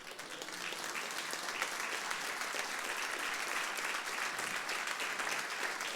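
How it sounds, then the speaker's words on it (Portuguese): A church congregation claps together in steady, sustained applause during a sermon, dense and even from start to finish with no voices over it. "Podemos aplaudir o Senhor?"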